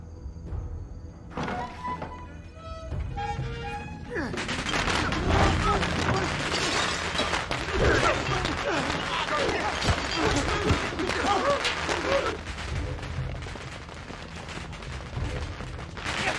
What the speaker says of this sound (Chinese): 爆竹拿来了。